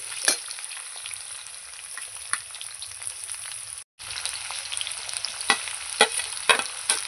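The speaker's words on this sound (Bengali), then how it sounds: "আলু আর পেঁয়াজ ভালো করে এবার আমি ভেজে নেব।" Potatoes and onions fry in a pan with a steady close sizzle, punctuated by scraping stir strokes and a brief drop in sound midway.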